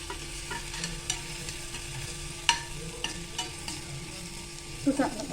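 Garam masala, kasuri methi and other ground spices fry and are stirred in a pan for a roll samosa filling. Steady low sizzle runs throughout, with scattered scraping spoon strokes and a sharper clink near the end; no talk.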